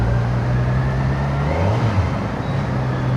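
A Kawasaki Versys 1100 motorcycle's inline-four engine hums smoothly while riding, a steady low drone with a brief pitch dip midway, under wind and road noise, with no talking.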